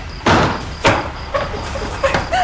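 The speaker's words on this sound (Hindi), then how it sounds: "अजय, अजय दरवाजा खोलो।" A door slammed shut during a tense domestic confrontation in a Hindi crime drama, heard as a couple of heavy thuds followed by lighter knocks and bumps.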